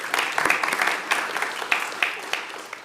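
An audience at a Six Bells Across PA veterans' unveiling ceremony in York claps in a sustained round of applause, dense crackling hands with a few sharper louder claps standing out, moderately near.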